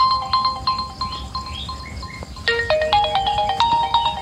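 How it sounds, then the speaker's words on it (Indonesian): A mobile phone plays a melodic electronic ringtone while placing a call, a bright beeping tune that repeats in short phrases, clear and close over low background hiss, with no talk. "Telepon Bang Ridwan dulu dah."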